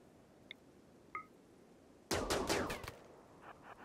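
A sudden gunfire volley in the video game RimWorld, fought on an ice sheet. Several sharp, loud cracks overlap in a dense burst of just under a second, after faint isolated blips, and fainter shots follow at the end.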